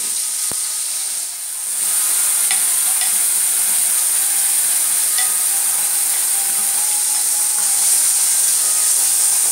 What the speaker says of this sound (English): Fry a little. Then add the ground mixture.